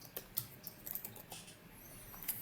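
Short bursts of clicky keystrokes on a computer keyboard as a file name is typed, quiet and close, with irregular taps separated by brief pauses and no talking.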